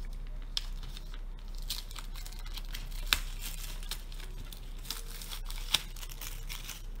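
Packaging of a Bokuundo Japanesque colour ink paint set is slit and opened, producing soft crinkling and rustling of wrapping with a few sharp little clicks, close and fairly quiet over a low steady hum.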